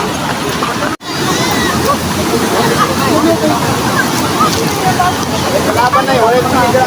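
A stream at a bamboo garden resort rushes and splashes loudly in a continuous close wash of water, while someone talks over it.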